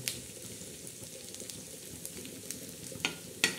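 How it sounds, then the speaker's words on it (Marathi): Onion frying for a black masala chicken dish sizzles steadily and close, with soft stirring scrapes and a few sharper crackles near the end, no talk. "आता आपला हा कांदा भाजतोय"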